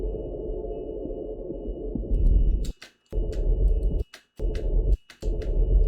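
A looping game sound in a Wwise and Unity project, attenuation switched off, plays steadily at full level as a low, rumbling texture under a thin high tone, interrupted by several sharp dropouts and clicks.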